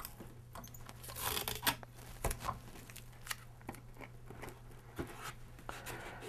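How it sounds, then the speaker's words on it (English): Duct tape tearing and being pressed over aluminum foil on a homemade pinhole camera, soft crinkly rips and rustles close by over a steady low hum. "what we're gonna do is we're gonna go ahead and tape this in place as such"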